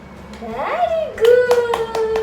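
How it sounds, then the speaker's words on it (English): A 15-month-old toddler claps her hands in a few sharp, close claps, spaced out near the end, while an adult voice and the child's babbling run alongside. "Clap for yourself."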